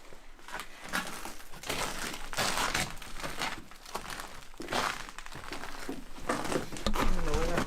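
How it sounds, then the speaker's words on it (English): Footsteps in a video game crunch over ice or broken glass, a steady run of gritty crackling steps at moderate level with brief pauses between them. "don't know whether I'm stepping on ice, glass."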